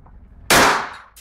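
A BUL M5 IPSC race pistol fires a single loud, sharp shot that rings off a steel target and decays over about half a second. A faint second burst follows at the very end.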